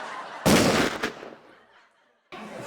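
Loud burst of gunfire on a comedy stage show, a dense cluster of shots lasting about half a second with a sharp second crack, then fading echo, a pause, and another burst starting at the end.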